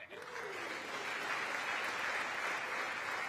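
Members of the US Congress give sustained applause for PM Modi's speech, a broad, even roar of clapping heard from a distance and holding steady throughout.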